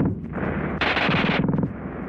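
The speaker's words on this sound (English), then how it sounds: "the German gun fires faster than anything you've run into before" Rapid burst of automatic fire from a German WW2 submachine gun in a 1943 shooting test: a dense, fast rattle of shots that swells to a loud peak midway, then trails into quicker, distinct cracks before fading.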